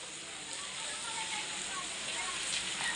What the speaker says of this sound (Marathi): बाहेर एवढा पाऊस पडतोय